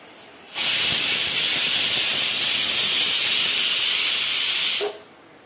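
A pressure cooker holding mutton lets out a loud, steady hiss of escaping steam. It cuts in abruptly, holds constant for about four seconds, then stops sharply, with no voices.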